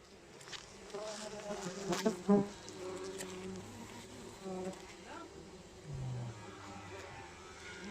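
Steady buzzing of bumblebees around their nest drones throughout, close by, with a few louder swells and faint voices in the background.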